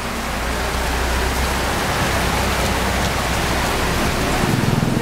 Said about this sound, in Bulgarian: Ето ни! Астротропическия дъжд.